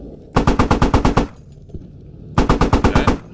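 Tank turret machine gun in a video game firing two loud, rapid bursts of about eight rounds each, separated by a short pause.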